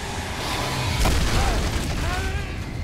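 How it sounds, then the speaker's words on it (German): An explosion in the Alan Wake video game blasts a couch through the air, a sudden loud boom bursting over dense, rumbling game noise that keeps churning around it. "da fliegt sogar die Couch weg"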